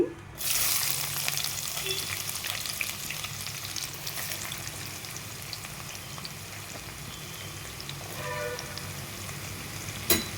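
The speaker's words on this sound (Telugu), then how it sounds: "ముందుగా నూనె వేసి నూనె కాగిన తర్వాత తాలింపు వేసుకోవాలి" Spices tempering and chopped onion frying in hot oil for a raw potato curry give a steady, close sizzle with crackling pops throughout, a brief clatter near the end.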